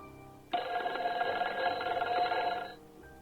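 A telephone bell rings in one sustained burst of roughly two seconds, bright and metallic, then cuts off, with a faint start of another ring just after.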